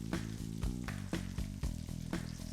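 Fish, trout and char, fries in a pan with a steady sizzle broken by regular clattering knocks roughly every half second, like a utensil striking the pan, close and without talk.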